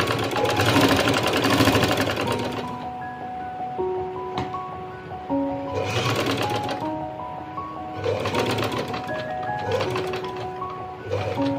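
A sewing machine stitches a band (ban) collar onto a garment in bursts of steady mechanical whirring, close and fairly loud, with short pauses between runs and a faint hum underneath.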